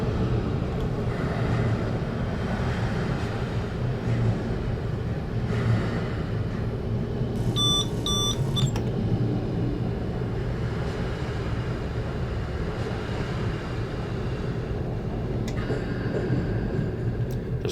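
A train on the Gotthardbahn route brakes to a stop at Bellinzona in Train Simulator 2021: a continuous, loud rumble of the train rolling under a station roof, with a brief chime and hiss of brakes midway, no speech.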